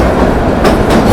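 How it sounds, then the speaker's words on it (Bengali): The Kalka–Shimla toy train rumbles through the long Barog tunnel, a loud, close, continuous roar of wheels and carriages echoing off the walls. "এখন আমাদের এই ট্রেনটা বারক টানেলের মধ্যে দিয়ে যাচ্ছে"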